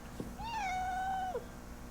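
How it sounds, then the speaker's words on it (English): A cat's single drawn-out meow, rising then holding steady before a brief downward tail, close and clear over a low steady hum in a studio with synths and drum machines. "Cat."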